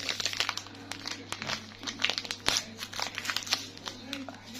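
A crinkly plastic packet being torn open and handled, giving dense rustling and crackling with a few sharper snaps, close by, while a person talks quietly alongside.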